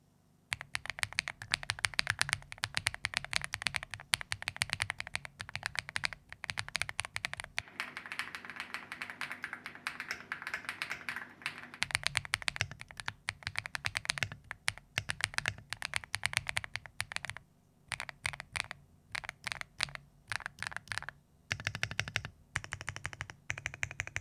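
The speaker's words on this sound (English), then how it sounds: "Here's a quick sound test of the Phantom 81." Typing on a clear KiiBOOM Phantom 81 V3 mechanical keyboard with a gasket-mounted plate, rapid close-up keystroke clacks in dense bursts with brief pauses, heard alone.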